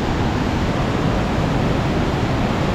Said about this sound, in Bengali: দেখো, জল পড়ছে